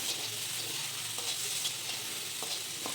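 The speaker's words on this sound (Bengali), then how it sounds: "কড়াইয়ের মধ্যে দিয়ে দিচ্ছি চিংড়ি মাছ ভাজতে খুব বেশি সময় লাগে না" Shrimp fry in a wok, a steady near sizzle with occasional soft stirring scrapes, no voices over it.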